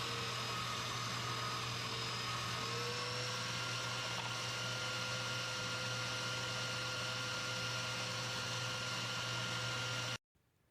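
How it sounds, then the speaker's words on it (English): A cutting wheel grinds through an iron garden hook with a steady, loud whining hiss that runs continuously for about ten seconds, then cuts off abruptly. "I did a little cutting wheel surgery and removed the hook"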